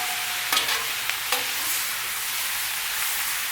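Cabbage, bacon and sausage frying on a Blackstone griddle hiss in a steady loud sizzle while a spatula scrapes and stirs through them in a few quick strokes.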